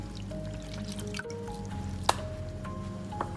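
Washed lamb meat is squeezed by hand over a basin, releasing a few faint drips and small splashes of water against a low, steady background hum.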